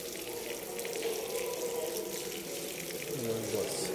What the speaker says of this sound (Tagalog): May tubig.